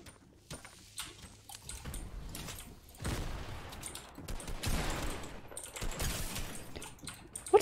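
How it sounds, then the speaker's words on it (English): Many players firing guns in an online shooter game, with bursts of rapid gunfire swelling and fading. Distant pops come first, and heavier sustained volleys follow in the second half, mixed with faint clicks. "there's like 50 people shooting at us"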